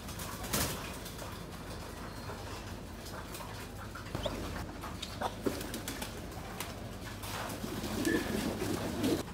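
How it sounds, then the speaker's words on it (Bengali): Pigeons in a loft coo softly and repeatedly at middle distance, low murmuring calls over steady background noise, with a few wing flutters and clicks. "কবুতরটা আমরা একটু দেখি।"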